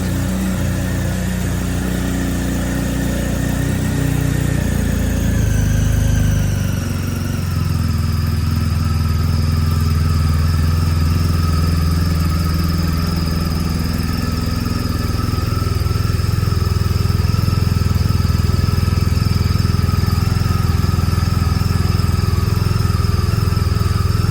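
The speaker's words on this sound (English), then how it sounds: "I'm gonna start the bike up" A BMW R1250 motorcycle engine runs loud and close, shifting its pitch early on before settling into a steady, continuous idle rumble for the rest of the stretch, with no talking.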